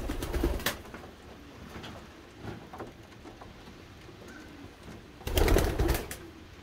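Pigeons in a breeding loft of mated pairs, blue bar and silver bar birds, give soft low coos and rustles, with a couple of louder bursts of fluttering or scuffling near the start and end.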